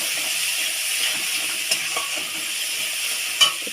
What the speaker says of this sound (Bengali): সব মশলাটা ভালো করে কষিয়ে নেব।